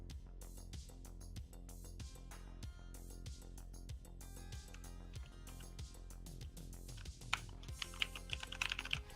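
A computer keyboard typed on steadily, a dense run of close, crisp keystrokes over a low steady hum, the tapping growing busier and louder near the end, with no talking.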